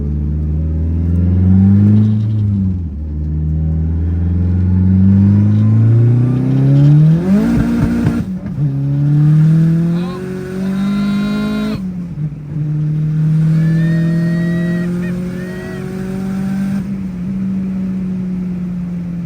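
Big-turbo Dodge Neon SRT4 pulling hard through the gears from the cabin, engine pitch climbing steeply, a sharp break at the shift from second to third, then revs rising again with turbo whine and whoosh, loud and close.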